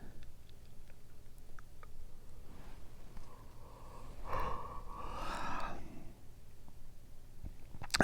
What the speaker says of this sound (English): I apologize if that yawning is extremely loud in your ears.